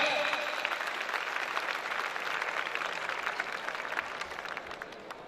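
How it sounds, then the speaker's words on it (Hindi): Audience applause at a school farewell debate event, a dense wash of clapping that starts strong and gradually fades over several seconds, with no talking over it. "आपकी भरपूर तालियों में।"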